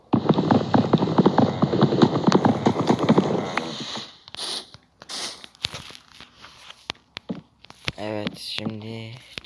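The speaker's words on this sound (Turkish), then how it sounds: "Aa at sürüsü." A herd of horses trots in Minecraft, a dense patter of hoofbeats that fades out after a few seconds, followed by scattered clicks and short bursts of a player's voice.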